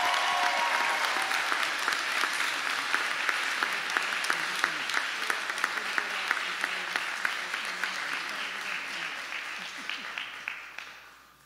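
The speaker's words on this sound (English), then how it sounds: "Now you can applaud." Audience applause at a 2022 commencement ceremony, a dense sustained clapping from a large crowd that holds steady for about ten seconds before tapering off at the end.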